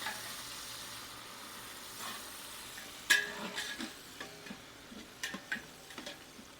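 Coriander and mint leaves being stirred and mixed in a large pot for a five-kilogram mutton biryani, with soft scraping and a few sharper clinks of the spoon against the pot under a faint sizzle.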